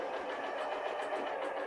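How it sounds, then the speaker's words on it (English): A Janome MC 9480 sewing machine motor whirs steadily and close as its presser foot raises, making a smooth, even mechanical hum with no pauses. "Let's see just how crazy high I can go. You can hear it raising."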